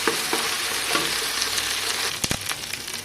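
Onions frying with ginger-garlic paste in a pan give a steady, close sizzle, with a few soft scrapes of stirring and a sharper clatter near the end; nobody speaks.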